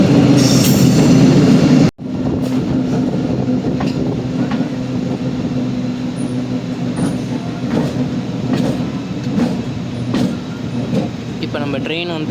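Indian Railways MEMU passenger train from Trichy to Villupuram running on tracks, a loud continuous rumble with rhythmic wheel clatter and occasional high squeals, heard close from on board after a brief cut.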